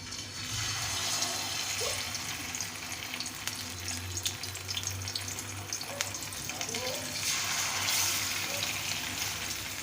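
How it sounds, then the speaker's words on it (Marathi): Bangda mackerel fish frying in hot oil in a home kitchen: a steady, dense sizzle and crackle that holds loud and unbroken throughout, with faint bubbling underneath. "तेल तापलेले आहे आता आपण एक एक फिश मस्त असे फ्राय करून घेऊ"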